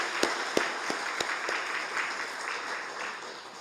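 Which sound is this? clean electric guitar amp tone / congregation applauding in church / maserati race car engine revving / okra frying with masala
congregation applauding in church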